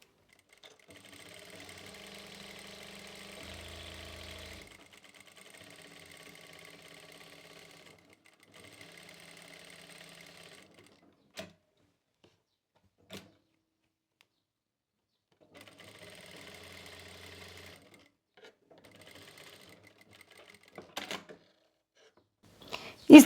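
A sewing machine stitches along the pocket fabric of open palazzo trousers in bursts of steady mechanical whirring, pausing between runs, with a few sharp clicks and knocks near the end.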